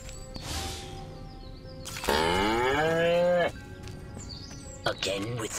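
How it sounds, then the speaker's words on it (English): Cow in the video game Destroy All Humans lets out a long, loud, close moo lasting over a second, set among quieter game sounds and speech-like voices. "Again with the moo?"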